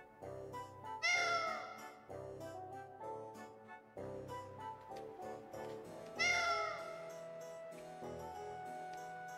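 A character in the Tales of Vesperia video game meowing like a cat, two drawn-out rising meow phrases with repeated shorter mewing calls between them over game background music.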